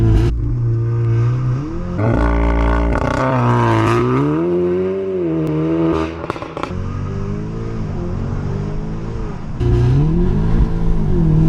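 A 400bhp APR Stage 2 tuned Audi S3 8V launches hard, its engine revving loud and close, then pulling with rising pitch through the gears; brief crackle and wheelspin roar.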